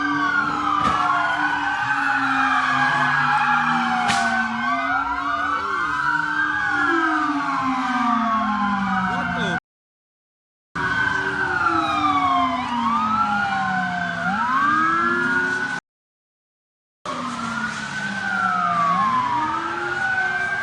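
An ambulance siren wails continuously on a New York street, its loud, sweeping up-and-down tones overlapping with echoing siren calls, with two brief dropouts where the sound cuts to silence.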